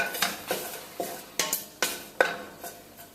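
Seeds are stirred in ghee in a pan for a chicken curry, with a spoon scraping in quick, regular strokes that sound clear and close, with no talking.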